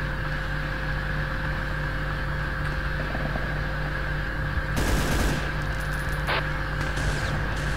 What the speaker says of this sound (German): von wo wird man denn überall geschossen?